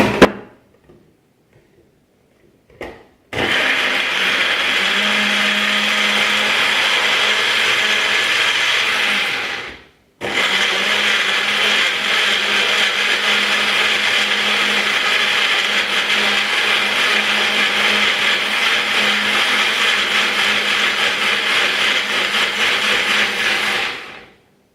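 A blender grinding tamarind fish curry spices for Nyonya asam fish, a loud close continuous whirring roar starting abruptly, stopping briefly, then running steadily again before cutting off.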